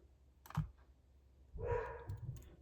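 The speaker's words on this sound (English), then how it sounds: "oh, can you hear the puppy?" A puppy yelps faintly in short bursts, then gives a longer whining bark, heard at a distance amid quiet clicks.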